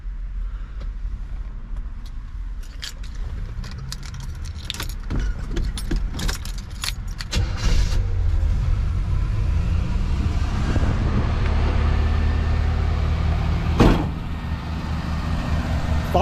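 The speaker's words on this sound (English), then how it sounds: "Fires up, it runs and drives, it moves on its own, it stops." A 1984 Chevrolet El Camino is heard near and loud: keys jangle and click, then the engine turns over and settles into a steady low running rumble that continues to the end.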